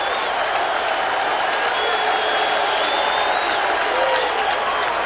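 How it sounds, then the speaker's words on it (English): Baseball stadium crowd at a 1990 Dodgers at Mets game in New York, cheering and applauding steadily and loudly throughout, a dense continuous roar with whistles rising over it. "Crowd on their feet."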